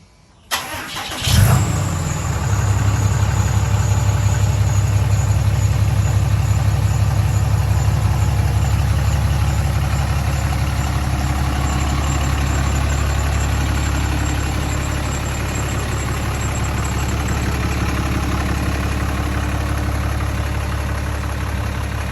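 A third-generation Dodge Ram 2500 pickup engine, unused for a week, cranks and catches with a sharp burst, then settles into a loud, steady rumbling idle that continues unbroken with a faint high whine above it.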